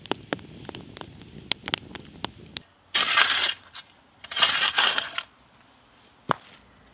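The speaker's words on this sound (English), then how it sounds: "Now let's grab some fuel wood." Fuel wood is gathered for a campfire outdoors: sharp snaps and clicks of handled sticks, then two bursts of rustling and crunching debris, close by with no talking.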